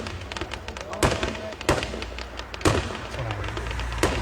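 Fireworks display at a corn maze and adventure park, sharp booms and crackling bursts recurring at irregular intervals against a steady rumble, with people talking over them.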